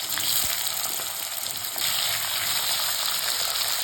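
Cut potato pieces fry in hot oil with whole cumin seeds, giving a steady, close, even sizzle that runs the whole time, with a slight lift partway through and no talking.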